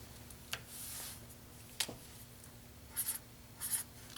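Pen or pencil writing numbers by hand during a grade 5 math lesson: quiet, sparse scratchy strokes in short bursts with pauses, close and faint, no talking.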